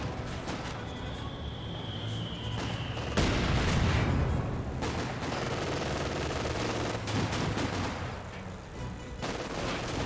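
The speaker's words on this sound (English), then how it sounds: "AT gun firing away" Anti-tank gun fire and other battle sounds in Company of Heroes 2: repeated booming shots and crackling gunfire over a steady rumble of combat, no voices.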